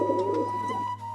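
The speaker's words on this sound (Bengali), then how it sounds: "তো দেখো খুবই সুন্দর কিন্তু পায়রা দুটো রয়েছে" A pair of white desi pigeons cooing softly nearby, a brief low throaty coo over a steady background hum.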